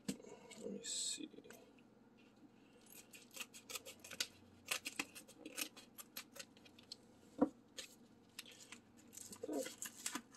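Scissors snipping open a mail package, quick irregular cuts with paper and plastic crinkling close up, plus rustling handling noises and soft breathy voice sounds.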